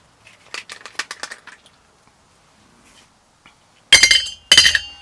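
Ice goes into a martini shaker: a quick run of light clinks, a long quiet pause, then two loud, sharp bursts of ice rattling against metal near the end, close up and with no speech.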